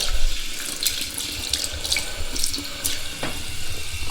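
A tap runs steadily into a sink to wet some items, a continuous close splashing stream with a few brighter drips and spatters and no voices.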